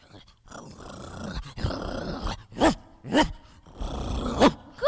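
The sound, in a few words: person imitating a growling dog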